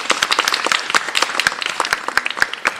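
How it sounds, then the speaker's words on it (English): An audience at a university nursing pinning ceremony gives the faculty and staff a lively burst of close, dense applause with distinct individual claps throughout. "Y'all applause are just so proper."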